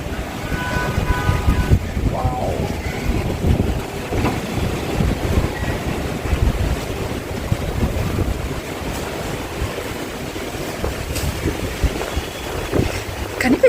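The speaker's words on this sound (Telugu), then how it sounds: "ఎంత మంచి వర్షం, తొలి వర్షం వైట్ ఫీల్డ్స్ కొండాపూర్లో" Season's first rain falling with gusting wind in Whitefield, Kondapur, a loud continuous rush and low buffeting roar close to the microphone, with no clear speech.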